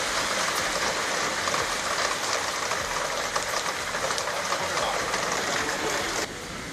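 Summer rain pours over a large open-air venue at Marine Drive just before an election convention, making a steady, loud broadband hiss that continues evenly throughout.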